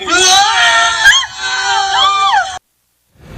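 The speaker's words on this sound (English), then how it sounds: "The online ad for Miracle Mattresses features a woman screaming as 2 towers of mattresses topple" A woman screams loudly in a mattress store ad as two towers of mattresses topple. The sustained shrill cry runs over crowd-like noise, then cuts off abruptly to silence.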